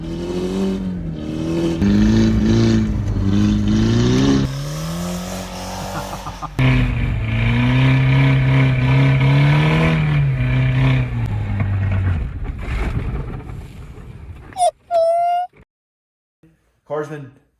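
An all-wheel-drive Audi TT with a 1.8T engine revs hard while driving, its loud, droning note rising and falling through gear changes before cutting to sharp bursts and near silence at the end.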